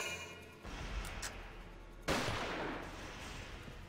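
Enemy gunfire in the Valkyria Chronicles war game: a bright burst of shots breaks out partway through and carries on as a dense, noisy volley over earlier low rumble, fairly loud with no talk.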